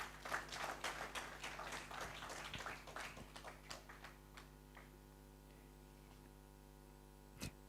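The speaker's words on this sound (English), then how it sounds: "A warm hand clap for Honorable Norbert Mao." Audience applause for Honorable Norbert Mao at a gathering, a dense burst of clapping that thins out and fades after a few seconds, leaving a steady mains hum.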